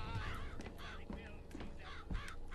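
Crows caw repeatedly in Bioshock Infinite, several harsh rasping calls in an irregular sequence, clear and moderately close, over a low background hum.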